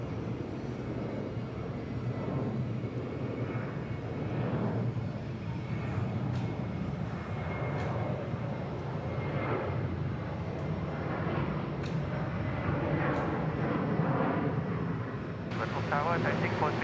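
An S7 airliner in lime green livery approaching the runway at Bangkok Suvarnabhumi Airport, a steady broad jet roar at a distance, sustained throughout with faint voices in the background.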